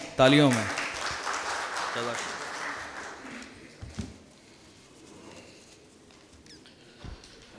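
Applause from an audience at a book launch bursts in loudly at first, then thins and fades over several seconds into scattered claps and room murmur.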